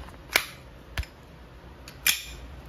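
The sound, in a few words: Sig Sauer P320 XCarry gas blowback airsoft pistol firing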